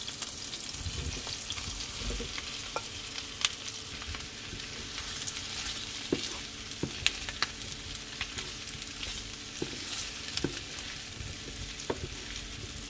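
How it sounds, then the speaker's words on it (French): Onion and potatoes fry in a pan with a quiet, steady sizzle, broken by scattered crackles and pops from spitting oil throughout. "Je vais faire dorer un petit peu l'oignon avant de verser les pommes de terre."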